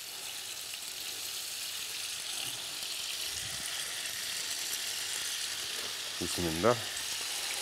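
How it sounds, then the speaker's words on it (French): Meat searing in hot oil makes a steady, close sizzle throughout, with a brief stir or clatter near the end and a short spoken word. "on fait saisir la viande"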